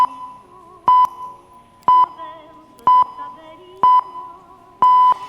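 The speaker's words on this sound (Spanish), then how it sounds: "Cinco pitidos cortos y uno largo." Radio station time signal on a Spanish broadcast: loud electronic pips repeat about once per second, five in a row, over faint background music, with no talk.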